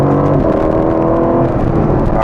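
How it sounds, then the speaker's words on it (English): A 2020 Aston Martin Vantage V8 engine hums loud and close in a steady, dense drone with a low rumble, no clear revving changes across the short stretch. "And that sound that the car makes"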